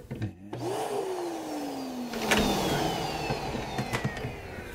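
A Dyson Animal vacuum cleaner starts up and runs during testing, its motor whine rising quickly and then slowly falling in pitch to a steady, fairly loud roar, with a few short clicks and knocks on top.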